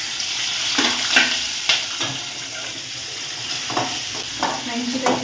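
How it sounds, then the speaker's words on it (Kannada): Mustard seeds and chillies frying in hot oil, a steady sizzle with scattered popping crackles and occasional stirring scrapes, up close. "ಇವಾಗ ಇದಕ್ಕೆ ಸಾಸಿವೆ ಹಾಕ್ತಿದ್ದೀನಿ."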